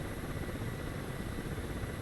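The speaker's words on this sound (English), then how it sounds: "So one of the wonders of having a coaxial rotor helicopter" A Kamov Ka-50 coaxial rotor helicopter roars steadily and close, its dense rotor and engine noise filling the whole moment with an even, unbroken rumble and hiss.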